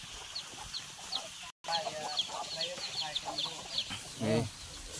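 Several chickens cluck in short, irregular bursts at moderate distance over an outdoor murmur at a rice-field hut, with a louder squawk near the end.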